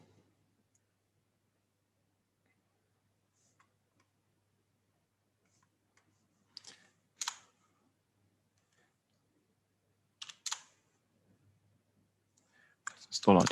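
Sharp mouse clicks while setting up Firestore in the Firebase console: a few quiet, crisp clicks, some in quick pairs, spaced apart against near silence.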